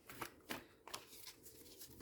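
Tarot cards are shuffled and cut in a few quick, soft riffling bursts, faint and close in a quiet room.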